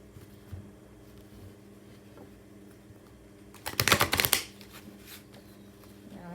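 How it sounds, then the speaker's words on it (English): A deck of tarot cards is shuffled in a quiet room: one short, crisp riffling burst of about a second rises from a low background hum, then fades back to near silence. "Let me shuffle the cards."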